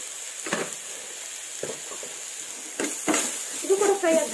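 Stingray fish frying in a pan for a homemade curry, giving a steady soft sizzle with a few louder bursts of stirring and clattering.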